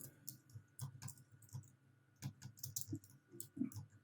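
A computer keyboard is typed on in a quiet room, with soft, uneven key clicks in short bursts close by and a faint steady hum behind them.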